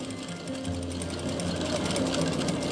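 A sewing machine runs steadily as it stitches lace onto a dupatta, its fast mechanical whir and hum loud and continuous throughout.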